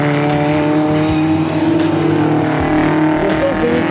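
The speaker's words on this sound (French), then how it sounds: "Ah non, il passait encore plus vite tout à l'heure le Twingo" A Renault Twingo race car roars on a circuit, its loud, close engine holding a steady high-revving drone throughout, with no talking.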